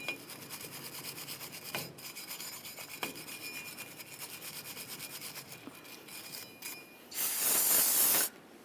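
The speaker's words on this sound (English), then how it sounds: "Now we're going to clean the hub mating surface of the axle so we can install our rotor using a wire brush." A wire brush scrubs the hub mating surface of a rear axle on a 2004-2008 Ford F-150, giving a steady scratchy rasp with a few sharp strokes and a louder, harsher burst near the end.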